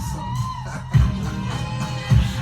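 A hip-hop track plays at steady volume, with heavy bass kicks landing about a second apart under a soulful, brassy backing and no talking over it.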